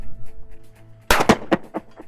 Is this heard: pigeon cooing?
no